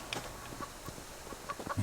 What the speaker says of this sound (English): I hear a chicken, but I can't pick it up.